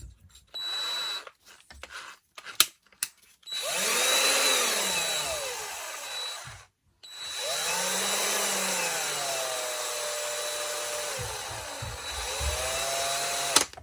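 A Parkside PABS 20-Li E6 20V cordless drill whirs up to speed and runs steadily, stops briefly, then spins again with a whining, slightly wavering motor pitch.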